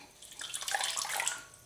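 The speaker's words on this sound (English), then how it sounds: "And I will rinse it. And then I squeeze it gently." Rinsed yarn made from scraps is gently squeezed, and water trickles and splashes out softly for a moment, rising after a quiet start.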